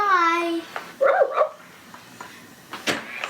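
A Hasbro Joy For All Companion Pet Dog toy gives a few short electronic barks and yips, close and moderately loud, separated by brief pauses amid light room noise.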